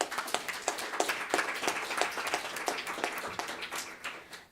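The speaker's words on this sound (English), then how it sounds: "Please give them a round of applause" An audience at a panel discussion on Hong Kong and US–Hong Kong relations gives speakers and moderators a steady round of applause, a moderate wash of claps with sharper individual hits throughout.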